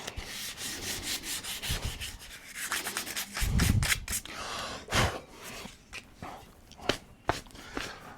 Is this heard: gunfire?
no